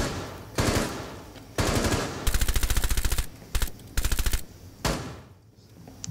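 Gunfire from the Rainbow Six Siege video game rattles in loud automatic bursts, several separate volleys of rapid shots broken by short gaps, sharp and close with no voices over it.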